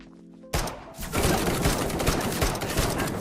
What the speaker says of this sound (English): Apparently 6 shots aren't enough to take him down.